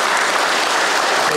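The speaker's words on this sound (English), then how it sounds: "Palapakan po natin si Gaga." Dense, loud applause from a crowd at a congressman's aid event for drivers in Aklan, an even wash of clapping with no gaps.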